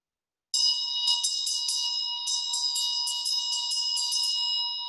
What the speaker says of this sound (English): So we would ring the bell.